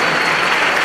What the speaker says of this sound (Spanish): Con este aplauso, arrancamos.